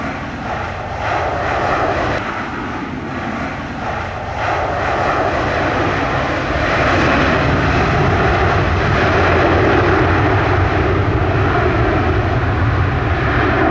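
A fixed-wing airliner passes overhead at Montego Bay airport in Jamaica, its engine roar loud and steady for the whole stretch, swelling slightly stronger in the second half with no voices over it.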